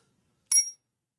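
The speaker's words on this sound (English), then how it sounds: "That's the most underwhelming bell noise I've ever heard in my life." A small bell gives a single quick, bright ding in an otherwise silent room, fading within a fraction of a second.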